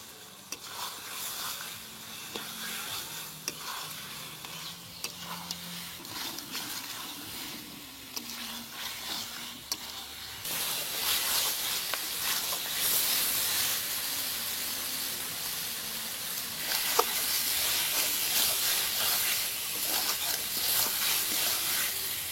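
Coconut paste hits hot oil with chicken curry already cooked down in spices, raising a loud, steady sizzle and hiss that swells sharply midway and carries on with occasional stirring clatter.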